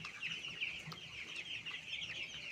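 Young broiler chickens, about ten days old, on a poultry farm, a dense steady chorus of soft peeping and clucking throughout, fairly close and continuous with no talk.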